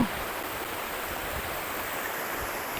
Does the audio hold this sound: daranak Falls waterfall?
yes